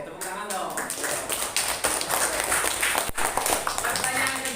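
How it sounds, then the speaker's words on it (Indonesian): Applause from students in a classroom, a dense spread of handclaps filling several seconds with voices mixed in. "Oke, tepuk tangan dong."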